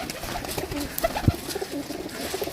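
Large, sturdy pigeons on a rooftop loft coo in soft, low murmurs at close range, with a few brief mellow calls rising over a steady rustling outdoor background and no talking.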